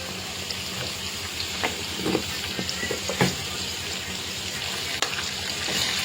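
Ginger paste frying in a curry gravy in a pan gives a steady, close sizzle with a few soft stirring knocks scattered through it, and no one talks.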